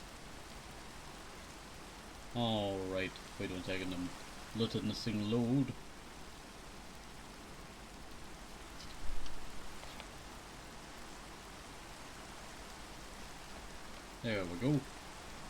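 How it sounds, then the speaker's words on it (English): Steady rain falling in Minecraft, a soft even hiss running throughout at low level while someone talks over it in short bursts. "It's currently raining on the server."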